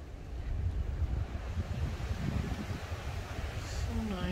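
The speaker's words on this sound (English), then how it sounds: "Windy, super windy." Strong wind blowing outdoors in Ascaya, Henderson, steady gusty rumble buffeting the microphone throughout at a low level.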